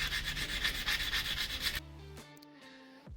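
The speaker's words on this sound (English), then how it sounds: "Get all the dirt and corrosion off where the brake disc sits." Dirt and corrosion are scrubbed off the hub face of a Jaguar XF where the brake disc sits, a rapid rhythmic abrasive rubbing up close that stops after under two seconds, followed by faint clinks and handling sounds.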